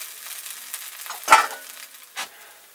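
Hash browns frying in a pan of oil give a low, steady crackle, with a couple of brief louder sizzling pops as the potatoes shift.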